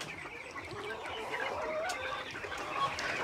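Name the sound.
chickens clucking on farm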